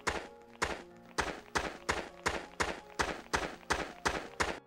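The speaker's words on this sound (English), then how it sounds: "boom, you've got Footstep Sounds." Footstep sound effects from an RPG Maker MV game, a steady run of about ten even, dull thumping steps in quick regular rhythm, close and clear with nothing else over them.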